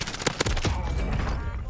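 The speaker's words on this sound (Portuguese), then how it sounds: "Aí eu disparo para a parede e para a porta." Gunfire in a video game, fired at a wall and a door: a rapid burst of loud close shots that then rings out into a noisy tail.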